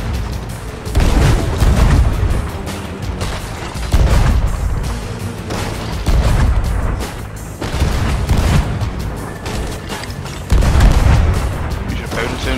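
Heavy cannon fire during a pirate ship battle in Sea of Thieves at the Reapers: repeated deep booms and rumbling blasts roll through the clip at irregular intervals, with game noise between them.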